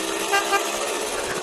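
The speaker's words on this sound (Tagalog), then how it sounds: "So, siya nga pala, ito yung busina na kinabit natin for the," A Mitsuba horn fitted to a Yamaha RS100 motorcycle sounds a loud, steady blare that holds for about a second and a half, with no talk over it.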